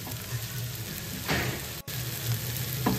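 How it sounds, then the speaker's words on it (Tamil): Onions sautéing in a pan give a soft, steady sizzle with a couple of brief stirring scrapes, close but fairly low in level, with a faint background hum and no speech. "இப்போ நல்லா வாசம் அடிக்குது வெங்காயம், இப்போ நல்லா வதங்கி வந்துட்டுது."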